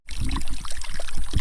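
Rushing, splashing water pours steadily and close by at the top of a waterfall on Bokor Mountain, Cambodia, a continuous bright gush with no voices.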